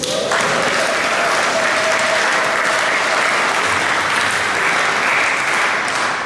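Sustained, dense applause from a church congregation at an evangelism campaign gathering in Brussels, loud and steady for several seconds, with a faint tone running beneath it early on.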